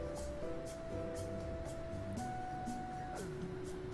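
An elevator ride in the video game The Stanley Parable: a steady, continuous mechanical drone with sustained tones that step in pitch a few times, plus faint periodic whooshes throughout.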